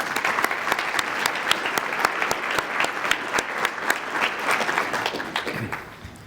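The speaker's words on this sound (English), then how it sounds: "Please join me in giving a round of applause to all of our investors as well." Applause from the audience at a business organization's annual meeting for its investors: dense, steady clapping with sharp individual claps standing out, sustained throughout and easing off at the very end.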